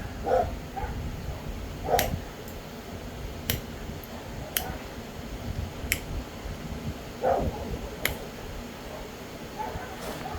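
Dogs on a rural property, kept to drive off coyotes, bark in a few sharp, spaced bursts at a moderate distance over steady outdoor background noise, with some yips mixed in.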